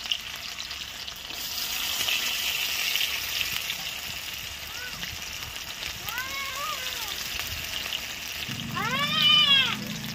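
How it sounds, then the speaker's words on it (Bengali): Chopped onions hiss and sizzle as they hit hot oil for a rui fish curry, a steady frying wash that swells near the end while a cat meows several times nearby. "তেল গরম হয়ে গেছে, তো আমরা এখন পেঁয়াজ দিয়ে দেবো"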